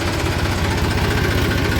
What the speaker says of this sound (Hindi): घुमाना पड़ेगा ट्रैक्टर